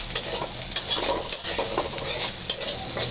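Jute leaves are stirred and fried in a pan, with a steady sizzle punctuated by sharp, roughly regular scrapes and clinks of a utensil against the pan, close up and without speech.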